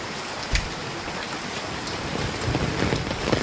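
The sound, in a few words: rain falling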